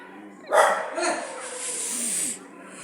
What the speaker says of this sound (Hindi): ये अब उसको भौंक रहे हैं